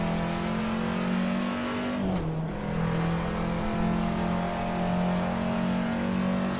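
A Porsche racing around a track, its engine droning steadily at a high pitch with a brief dip in pitch as it shifts or lifts, then pulling on again, loud and close inside the car.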